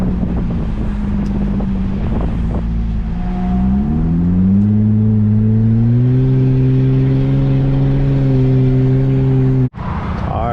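A Chevy Impala accelerates on the freeway, its engine note rising steadily in pitch through the gears before settling into a loud, steady cruise. Wind buffets the microphone throughout, and a sharp thump cuts in near the end.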